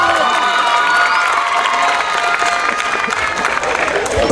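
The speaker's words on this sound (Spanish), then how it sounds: "El aplauso para Independencia Payé." An audience at a folk dance competition cheers and applauds loudly and without a break, with shouts and high children's voices over dense clapping.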